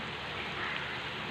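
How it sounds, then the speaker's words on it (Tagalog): A soft, steady bubbling hiss of adobo simmering in a pot, continuous and even throughout with no voices. "Kumukulo-kulo na siya."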